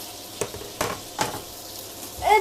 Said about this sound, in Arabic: كتشحر واحد شويه ماشي بزاف لحقاش غنشحروا معاها الروز